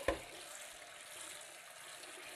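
Hot tap water runs steadily as a cast iron pan is washed by hand in a sink, a soft continuous splash and hiss with a small knock at the start, close and fairly quiet.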